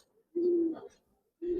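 Giribaz pigeons in a loft give two soft, low coos, one longer and one cut short, close by with no talk.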